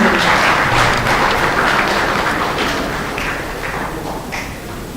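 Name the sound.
audience applause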